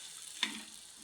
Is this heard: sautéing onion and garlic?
yes